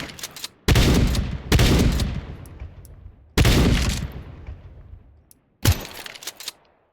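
A sawed-off shotgun fires in Counter-Strike 2, four loud, close blasts spaced a second or more apart. Each one rings out into a decaying tail, with faint mechanical clicks between shots.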